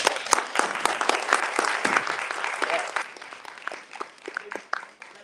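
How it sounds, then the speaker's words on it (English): Audience members clap for Miss Alice Braley Torriente at a Baltimore civil rights event, starting as a dense burst and thinning into scattered, separate claps toward the end. "Please clap."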